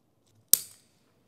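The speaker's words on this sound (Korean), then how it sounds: "먼저 깔망을 크게 맞춰서 잘라주세요." A single sharp snip of scissors cutting mesh netting for a bonsai pot, quick and close, fading fast into quiet.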